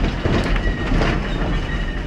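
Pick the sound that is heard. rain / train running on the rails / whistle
train running on the rails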